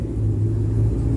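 Deep, steady engine and exhaust rumble from a Chevrolet Camaro, loud and close, holding an even low throb without talk.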